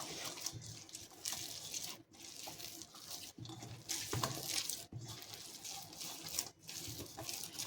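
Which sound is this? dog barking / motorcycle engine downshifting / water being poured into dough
water being poured into dough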